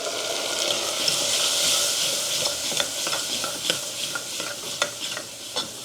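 Moong cooks in a pan with turmeric and cumin-coriander powder, giving a steady close sizzle broken by repeated scraping and stirring clicks from a spoon against the pan, with no speech.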